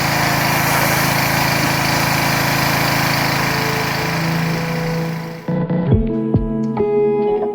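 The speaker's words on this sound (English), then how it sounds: "Pressure washer!" A pressure washer's engine runs loud and steady at close range for about five seconds, then cuts out abruptly, leaving scattered clatter and quieter sounds.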